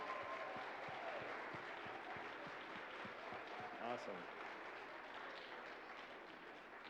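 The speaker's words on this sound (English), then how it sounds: "Let's give a round of applause for all of the participants." Audience applause for talent show participants, steady dense clapping throughout, with a brief spoken remark in the middle and faint voices under it.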